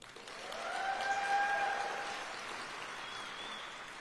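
Audience applause at a State of the City event after council members are introduced, a steady wash of many hands clapping that swells and then slowly tapers, heard at moderate distance with a faint tonal hum underneath.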